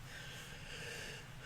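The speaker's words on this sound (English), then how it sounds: "Nice deep breath." A slow, deep breath drawn in steadily through the nose, close and soft, with an airy hiss lasting the whole moment and no talking.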